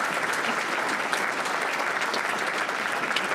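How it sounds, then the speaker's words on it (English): Continuous, dense applause from an audience at a forum of mayors and local leaders, spread evenly across the room and held at a steady moderate level throughout, with no speech over it. "get a nice round of applause for"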